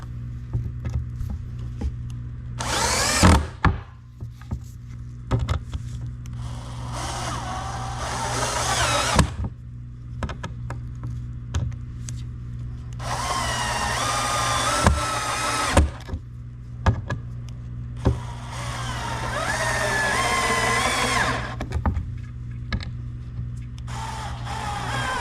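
A compact Bosch 12V cordless drill drives screws in bursts, its motor whirring up and down in several separate runs with short pauses between, loud and close.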